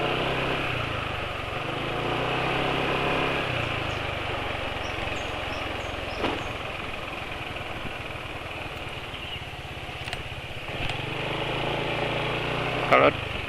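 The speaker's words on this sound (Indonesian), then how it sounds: "Kalau dengar suara mesinnya ya" A motorcycle engine runs at a steady idle just after an oil change to Petronas Sprinta 4T 10W40 synthetic blend, replacing drained Unil Opal oil. The low, continuous hum holds for the whole stretch, with a few faint clicks near the end.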